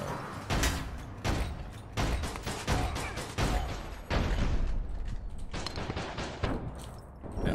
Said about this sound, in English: How did these CSG shots not hit?